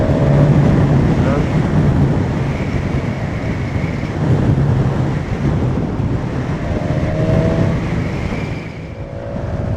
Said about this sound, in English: God, the sound this bike makes when you're accelerating hard.